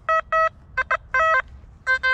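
Signal tone from a metal detector sweeping ground in a forest: loud, clean electronic beeps in short bursts and doubled pulses, irregular in rhythm, close and clear over faint outdoor background.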